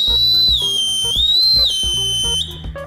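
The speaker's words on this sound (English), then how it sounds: "it's got an emergency whistle on it, built into it" A shrill, steady emergency survival whistle built into a tactical pen sounds loud and close, holding a high tone that slides slightly in pitch for almost three seconds over faint low background sounds.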